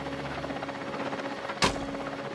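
A steady mechanical drone with a tonal hum runs throughout, like a hovering helicopter near a conifer tree, broken by one sharp loud crack near the end.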